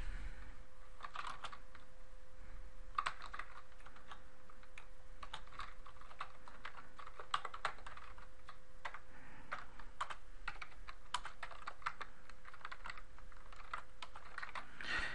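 Code being typed on a computer keyboard: quick irregular keystroke clicks in bursts, close and fairly quiet over a faint steady hum, with no talking.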